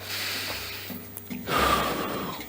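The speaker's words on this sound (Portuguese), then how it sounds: "respira comigo aqui, ó" One person draws in a single deep, audible breath near the microphone, following a brief stretch of quiet room tone.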